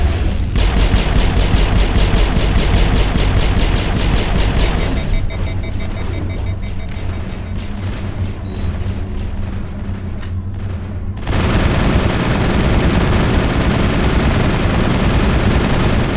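Sustained automatic gunfire aimed at an armature robot in the video game Mass Effect: loud, rapid, continuous bursts that thin out for several seconds in the middle, then return at full force.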